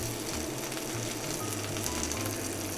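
Button mushrooms fry in a hot pan with a steady, close sizzle that holds evenly throughout, broken only by a low intermittent hum underneath.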